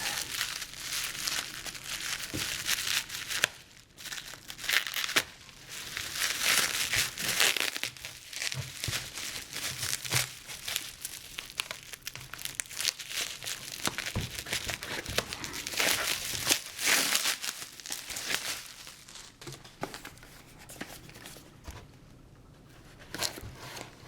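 A package wrapped in a massive amount of packing tape is torn open, with continuous loud crinkling, ripping and crunching of tape and wrapping, nearby, with brief pauses and no talk.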